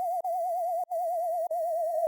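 A bass layer built in Serum 2 for the second part of a bass-music drop: a steady sustained tone with a gentle wobbling vibrato, briefly cut three times, played alone and moderately loud.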